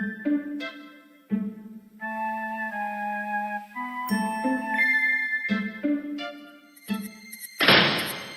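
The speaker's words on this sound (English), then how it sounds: "You hear the latch fall into place again as the door closes behind you." King's Quest 2 game door closing and latch dropping, rendered as a series of chiptune-like tonal thunks and a final burst of noisy clatter, loud and alone.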